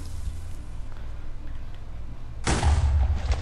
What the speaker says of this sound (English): Explode!